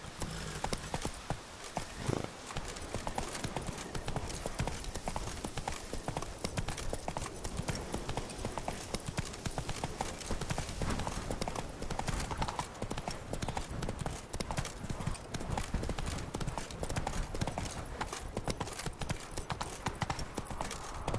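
Horse hooves clip-clop steadily in The Witcher 3, a continuous rapid rhythmic trotting with faint gameplay ambience and occasional light rustle.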